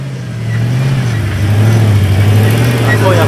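Honda Civic engine running steadily close by, a continuous low hum with a slight rise in pitch midway, under people talking throughout.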